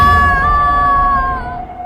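A girl lets out a long, high, sustained scream in a horror story. The cry wavers steadily for about a second and a half, then trails off over a low rumbling background.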